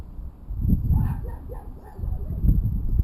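Dogs barking in a cluster of short, muffled yaps and whimpery yips, moderately loud and somewhat distant, repeating irregularly across the clip.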